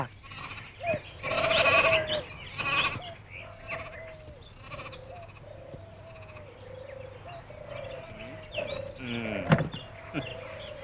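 A young lamb bleats repeatedly in an outdoor setting, a series of wavering cries spaced a second or so apart, mid-distance and clear, with faint background noise and a louder bleat near the end.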